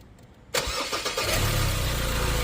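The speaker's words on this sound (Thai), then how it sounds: "ลองสตาร์ทเครื่องยนต์ดูการสตาร์ท" After a brief quiet moment, a Ford Ranger pickup truck engine cranks and catches, then settles into a loud, steady idle close by.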